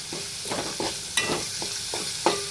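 Finely ground garlic and coconut paste fries in hot oil, a soft continuous sizzle broken by a few sharp stirring scrapes and clicks against the pan, close up with no speech.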